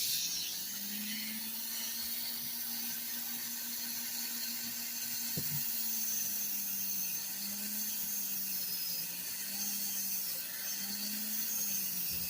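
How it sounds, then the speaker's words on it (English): Rotary polisher with a 3M radial polishing disc working scratches out of wire wrap jewelry, a steady close whirring hum with gently wavering pitch and a faint brief tap midway, no voices. "Scratches that are this small, you can use the polishing disc to get these out."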